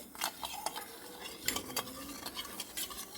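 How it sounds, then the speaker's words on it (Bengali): Spoon stirring sugar into water in a cup, a light scraping and clinking that comes in short irregular strokes, close and fairly quiet with no voices. "চিনিটাকে জলের সাথে খুব ভালো করে একটু মিশিয়ে নিচ্ছি"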